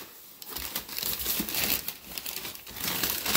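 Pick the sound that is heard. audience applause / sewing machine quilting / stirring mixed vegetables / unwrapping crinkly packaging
unwrapping crinkly packaging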